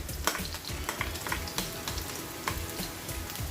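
Garlic sizzles and fries in a pan with onion and ginger, a steady close crackle broken by small pops and stirring scrapes, with no talking.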